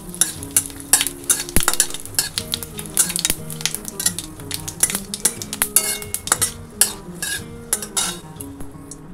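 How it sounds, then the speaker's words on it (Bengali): Bay leaf, a dried red chilli and whole cumin tempering in hot oil in a wok, with sharp spattering crackles and repeated metal clinks of a spoon stirring, close and fairly loud. "ফোড়নের জন্য এখানে কড়াই বসিয়ে দিয়েছি, দেবো হচ্ছে তেজপাতা, একটা শুকনো লঙ্কা, আর হচ্ছে গোটা জিরা।"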